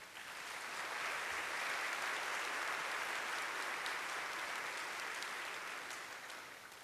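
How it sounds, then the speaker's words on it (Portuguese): An audience at a forum on critical thought applauds with steady, even clapping that rises quickly, holds for several seconds and then fades slightly, heard from a moderate distance. "a quem pedimos uma salva de palmas"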